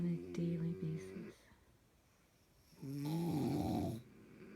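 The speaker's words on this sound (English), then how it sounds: "I got snoring in stereo." A person snores close by in a quiet room, two long, rough, droning breaths separated by a silent pause, with the second one louder and fuller.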